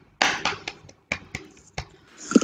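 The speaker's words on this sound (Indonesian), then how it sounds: "kasih tepuk tangan dulu sama si Shirley" A classroom of students gives a short round of applause for a classmate after her presentation, with a few separate, sharp bursts of clapping and brief gaps between them.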